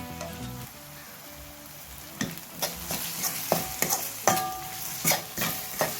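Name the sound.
onions sautéing and being stirred in pan for chicken curry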